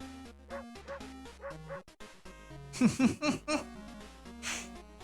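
Cartoonish dog barks and yips from the horror video game World of Horror, sounding over a tinkly game music loop, several quick barks clustered in the middle.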